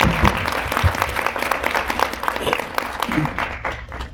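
Audience at a Petersburg, Virginia Ward 3 city meeting applauds Walnut Hill school for full accreditation, a steady burst of many hands clapping throughout, fairly close and even, with faint voices mixed in.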